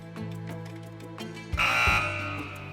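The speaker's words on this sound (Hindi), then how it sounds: "बजर एनेबल करता हूँ।" A contestant's quiz-show buzzer fires once during a Ramzan special quiz on the life of Imam Hussain: a loud, harsh electronic burst lasting about half a second after a quieter tonal background.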